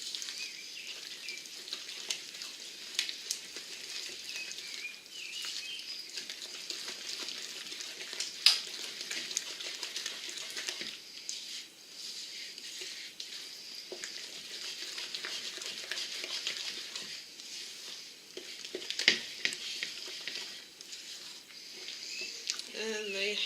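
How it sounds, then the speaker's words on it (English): Cranberry coconut muffin batter is mixed vigorously in a bowl, giving a soft continuous wet stirring and scraping with small irregular clicks, fairly faint throughout. "And then give it a really, really good mix."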